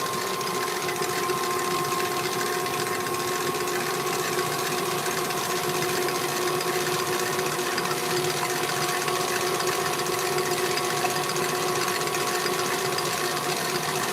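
An electric mixer whisks macaron batter at speed 2, giving a steady, loud motor whir with a constant pitch that holds unbroken and close throughout, with no talk over it.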